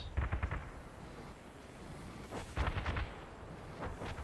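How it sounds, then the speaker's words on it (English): Mandrake weapon shots fly over in the Crossout vehicle combat game, a few rumbling booming bursts over a constant noisy battle background, fairly distant and moderate in level. "Got some Mandrake shots flying over."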